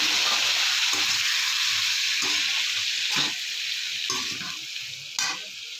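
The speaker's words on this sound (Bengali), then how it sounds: "তেলের মধ্যে বেগুন দিয়ে দিচ্ছি" Eggplant pieces frying in hot oil give a steady, fairly loud sizzle throughout, with a few sharp crackling bursts as they settle in the pan; no one speaks.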